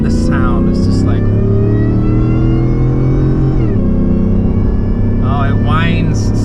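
A 750 hp Shelby F150 pickup engine revs and whines steadily, rising in pitch and then dropping back around midway, loud and close, while people talk over it.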